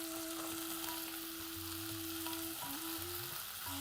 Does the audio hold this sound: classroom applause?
no